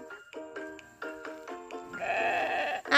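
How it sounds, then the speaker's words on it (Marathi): Sheep on a farm bleat several times in close succession, a few short calls followed by a longer drawn-out bleat, fairly near. "इकडे पाठीमागे आहेत मेंढ्या."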